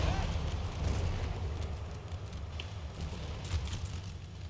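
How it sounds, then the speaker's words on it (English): Mortars pound away in Empire: Total War, a dense, rumbling barrage of low booms and crackling fire that rolls on continuously without any clear pauses. "The Spaniards hold the heights, but are taking heavy artillery fire from the mortars."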